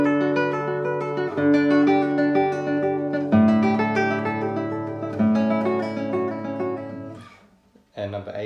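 A classical guitar plays Carcassi's Etude No. 4 from Op. 60. Its repeated picked pattern rings out close and clear, with chords shifting every couple of seconds, then fades briefly before a short new phrase begins.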